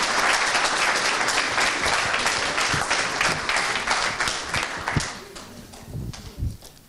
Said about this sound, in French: Je vous demanderai aussi un tonnerre d'applaudissements